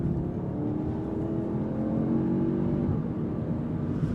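A 2025 Audi S3 accelerates on throttle through a curve, its engine droning steadily from inside the cabin with rising tone and some road noise.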